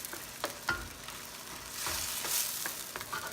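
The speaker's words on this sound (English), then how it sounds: "have to mix it." Chicken afritada stirred in a frying pan, a soft continuous sizzle with scattered utensil scrapes and taps against the pan, swelling slightly midway, quiet and close.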